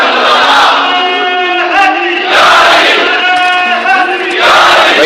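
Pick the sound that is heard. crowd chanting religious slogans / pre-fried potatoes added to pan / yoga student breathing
crowd chanting religious slogans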